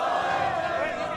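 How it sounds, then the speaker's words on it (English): Cornell fans in the arena crowd roaring and chanting together at a college wrestling match against Lehigh, a loud sustained wall of massed voices with no break. "as you hear the crowd behind us. Some of the Cornell faithful"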